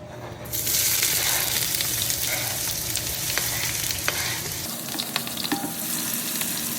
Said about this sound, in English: we're heating up our grease so we can add in a little bit of chopped onions